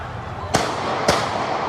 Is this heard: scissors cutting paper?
no